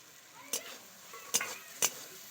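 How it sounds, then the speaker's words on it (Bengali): Fried potatoes are stirred into a spiced masala in a pan over a quiet low sizzle. Three distinct scraping stir strokes come at spaced intervals, close and fairly crisp. "আলুগুলো দেওয়ার পরে 1 মিনিট আমি ভালো করে কষিয়ে নেব।"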